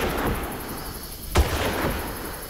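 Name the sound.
gunshots in the video game Far Cry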